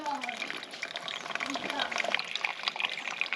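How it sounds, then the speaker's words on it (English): Hot water poured for brewing coffee at an off-grid cabin in Nicaragua, a steady liquid trickle and splash lasting a few seconds, fairly quiet and close. "time to pour some water"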